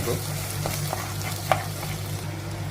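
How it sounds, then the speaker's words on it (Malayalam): Stirring and sizzling of soaked green peas frying in a pan for curry, with a steady crackle, occasional spoon scrapes and a sharper clink near the middle. "അതിലേക്ക് നമ്മൾ കുതിർത്ത് വെച്ച ഗ്രീൻ പീസ് ഇട്ട് കൊടുക്കാം. നന്നായിട്ട് ഇളക്കി കൊടുക്കാം."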